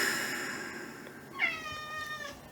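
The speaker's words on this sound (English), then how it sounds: "Hello, kitty." A house cat meows once, a clear rising-falling harmonic call in the second half, heard close and fairly loud over a quiet background with faint electronic tones beforehand.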